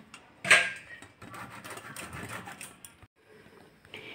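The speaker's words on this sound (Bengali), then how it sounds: "এই যে এরকম মোটা সাইডটা আমি গ্রেট করে নিচ্ছি।" Carrot grated on the coarse side of a hand grater gives close, uneven rasping strokes after a sharp knock, pausing briefly before a few fainter scrapes.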